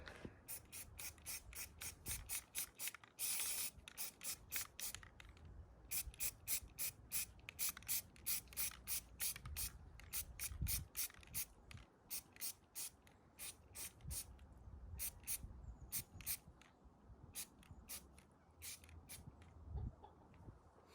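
Bullseye primer is sprayed onto a foam decoy head in a long run of short, sharp spray-can bursts and rattles, quiet and close, with no talking.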